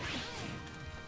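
Mario's up smash landing in a Super Smash Bros match, a short crashing whack with a swishing edge that stays loud and dense across the brief moment, with no talk over it.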